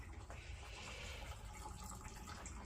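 Coolant pouring steadily out of a 2011 Toyota RAV4 V6 engine during a water pump and radiator job, a continuous close splashing trickle with no pauses.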